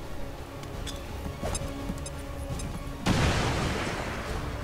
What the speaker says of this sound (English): I want to throw a frag grenade. Mostly I just want to blow up the wall.